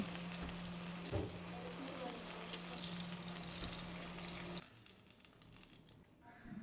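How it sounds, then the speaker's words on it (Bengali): Okra lightly frying in mustard oil gives a steady, moderately loud sizzle with a few soft clinks, then drops to a quieter, thinner crackle for the last couple of seconds; no one speaks. "ঢ্যাঁড়সগুলোকে হালকা করে ভেজে নেব"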